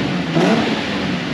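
A car engine revs through its old street exhaust in a steady, loud, raspy drone with a brief swell in the middle, heard alone without voices.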